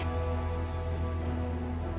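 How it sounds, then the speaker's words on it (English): Steady rain patters on the ground in the game Sonder, a dense, continuous hiss with a low hum beneath it and no voices. "Y'all are kind of sitting in the mud and rain"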